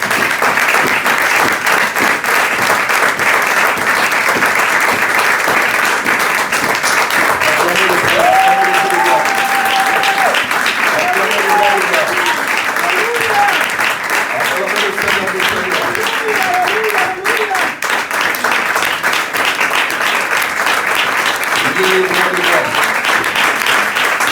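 A church congregation applauding during a Sunday worship service, steady loud clapping throughout with a voice and some musical tones rising over the applause partway through.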